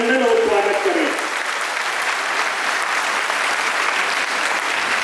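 Audience applause at an awards and honour ceremony, a loud, dense wash of many hands clapping that holds steady throughout, with the speaker's voice fading out at the very start.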